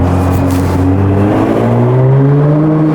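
A Nissan GT-R R35 engine revs loudly and steadily up close, its pitch climbing and holding in a smooth drone with no talking.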